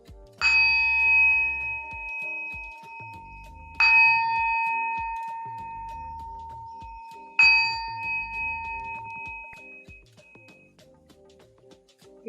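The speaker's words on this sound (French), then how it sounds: "Je vais mettre fin à ce cours avec mon petit gong." A small gong rung at the end of a hatha yoga class sounds three times at even intervals, each strike bright and clear with a long, shimmering ring that fades before the next.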